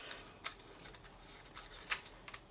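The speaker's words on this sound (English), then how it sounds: "And trim off the ends." Scissors snipping the loose ends off a tied craft knot, two or three faint, crisp clicks over quiet background rustle.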